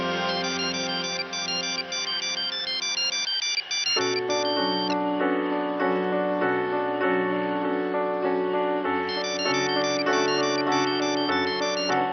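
A mobile phone plays a loud, continuous melodic ringtone that repeats its musical phrase throughout, close by and unbroken, with no talking over it.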